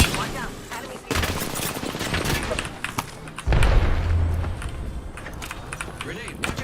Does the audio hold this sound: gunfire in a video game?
yes